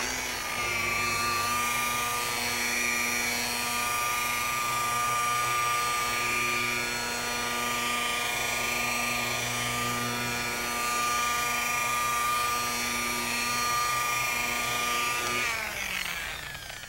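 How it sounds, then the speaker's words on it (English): A FLEX 3403 rotary polisher buffs sanding marks out of car paint, giving a steady high-pitched motor whine that holds for the whole stretch and winds down right at the end. "I'm going to pick up my bead and just watch how well this thing removes these sanding marks"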